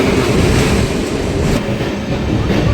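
Loud, steady roar of a train running on rails near Ottapalam in Kerala, heard from close by with a constant rattling rumble and no talking.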